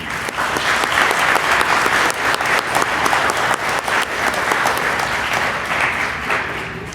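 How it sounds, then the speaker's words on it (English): Audience at Palo Verde Middle School's 8th grade promotion ceremony breaks into loud, dense applause, a continuous crowd of clapping hands lasting several seconds. "please join me in giving a round of applause for all those who have supported you in your education"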